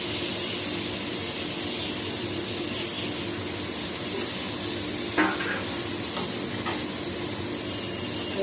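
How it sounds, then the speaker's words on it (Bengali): Pointed gourd (potol) frying in a pan gives off a steady, even sizzle and hiss throughout, with a couple of faint utensil clicks partway through and no voices. "পটল ভাজা হচ্ছে"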